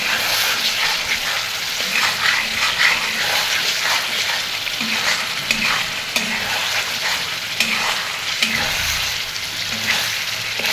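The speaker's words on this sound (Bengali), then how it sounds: "এখন নাড়াচাড়া করবো" Beef curry sizzles steadily in a pan while a spoon scrapes and stirs through it in repeated strokes, close and continuous.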